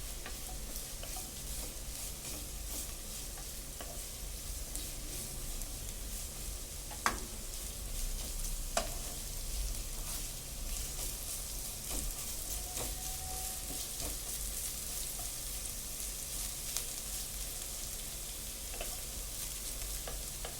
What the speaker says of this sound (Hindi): और शिमला मिर्च भी ऐड करके 2-3 मिनट के लिए फ्राई कर लेंगे, ताकि सब्जियों का कच्चापन निकल जाए